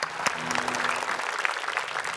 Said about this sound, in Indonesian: Tepuk tangan untuk semua yang sudah merayu.